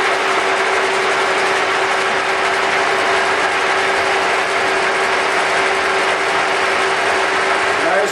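Large K & T milling machine running steadily, a loud continuous mechanical whir with a constant ratcheting, gear-driven rattle and a steady hum throughout, no talk.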